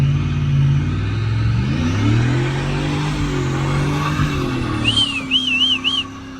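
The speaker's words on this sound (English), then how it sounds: "can't quit doing burnouts now" A car's engine revs hard and holds a loud, sustained roar while doing burnouts, pitch wavering up and down before a brief warbling whistle-like squeal near the end.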